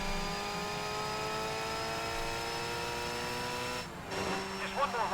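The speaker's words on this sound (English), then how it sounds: "I'm just going to let you enjoy the sound of the car for a hot lap" A Formula Ford race car engine in a racing video game at Oschersleben holds a steady high-pitched drone at constant revs, then shifts down with a brief tire squeal and rising revs near the end.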